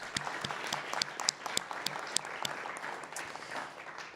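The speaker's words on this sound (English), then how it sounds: "Let's give all of our sponsors a round of applause" An event audience applauds the sponsors of MAGIC's 6th Capture the Flag program, a faint, steady wash of many hands clapping that goes on alone, without voices.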